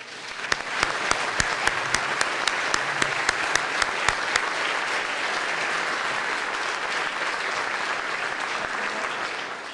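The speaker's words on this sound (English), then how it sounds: "Let's give a round of applause to the two Hendersons for an incredible evening" Audience at a university speaker-series dinner applauds the two Hendersons in a sustained, dense round of clapping with a few sharper claps near the front early on, steady and fairly loud throughout.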